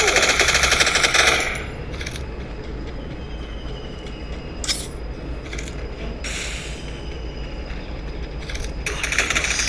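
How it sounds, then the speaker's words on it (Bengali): Rapid P90 submachine gun fire in the Free Fire video game crackles in loud sustained bursts, with a long opening volley and several shorter bursts following. "P90 দিয়ে সবার মাথাতে মারবো।"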